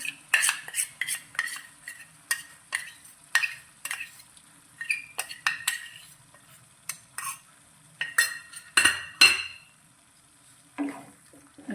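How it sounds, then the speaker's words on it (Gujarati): A spoon stirs and scrapes repeatedly in a pan as yogurt masala paste is mixed into a simmering gravy, with rhythmic clinks over a faint sizzle. "તો ગેસની ફ્લેમ અત્યારે આપણે એકદમ સ્લો કરી દઈશું અને મસાલા પેસ્ટ આપણે અંદર ઉમેરી લઈશું."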